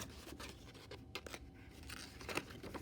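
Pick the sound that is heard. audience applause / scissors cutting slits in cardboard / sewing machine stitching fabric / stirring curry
scissors cutting slits in cardboard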